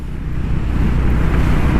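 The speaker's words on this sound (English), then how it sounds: "the wind is chilly. I just raised the visor and it is super cold" Cold wind roars steadily past a motorcycle rider's raised helmet visor, a loud, continuous low rush of buffeting noise with no talking.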